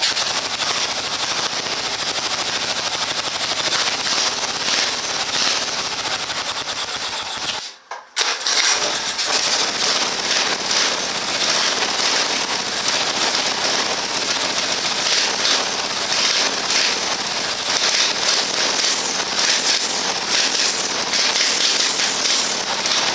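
A 10 hp go-kart engine with a muffler runs loud and steady with a dense, rattly roar, cuts out briefly for about a second, then resumes at a constant level to the end.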